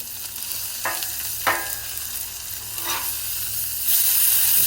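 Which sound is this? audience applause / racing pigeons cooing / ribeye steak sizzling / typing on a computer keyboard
ribeye steak sizzling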